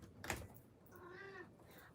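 A house cat gives a single short, soft meow near the middle, faint and fairly close, after a brief thump, with quiet room tone and no talking.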